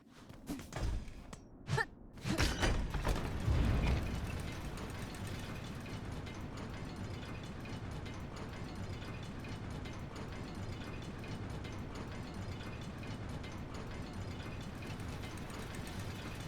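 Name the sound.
elevator descending in Hollow Knight Silksong video game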